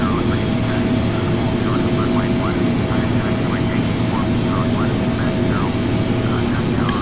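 Boeing 777 jet engines roar steadily during takeoff in the Flight Simulator X game, a loud, constant drone with voices talking over it.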